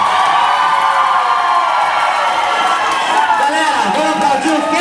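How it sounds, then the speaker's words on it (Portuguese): Crowd at a King of the Tigers fight event cheering and whooping loudly, a continuous roar of voices with shouts, close and sustained throughout. "Galera, vamos aplaudir o Kelito, galera."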